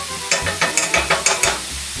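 Five garlic cloves are stirred in a pan while preparing brisket, a utensil scraping in quick rhythmic strokes over a steady loud sizzle, close up and without speech.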